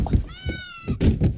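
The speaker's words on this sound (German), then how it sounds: "Oh, eine Katze." A cat in the video game Goodbye Deponia gives a single clear, drawn-out meow, framed by dull thumps from the game's sound effects.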